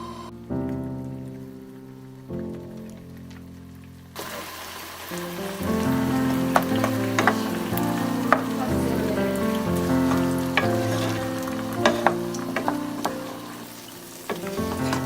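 Chopped onion and potato frying in oil and butter in a pan, a steady sizzle with soft crackles and occasional clinks of a utensil, quieter at first and then louder and fuller.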